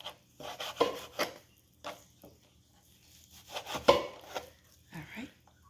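A knife chops and scrapes bacon on a board in short, irregular strokes, close and fairly quiet, with brief pauses between cuts.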